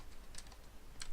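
A computer keyboard taps out a command in the Windows Run box during Windows domain controller setup, giving a brief burst of a few close, crisp keystrokes with nobody speaking.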